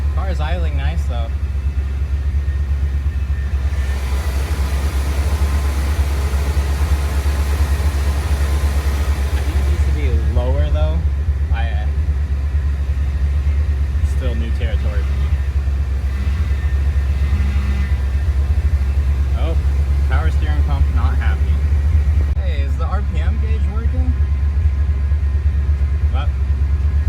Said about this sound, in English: Car is idling nice though.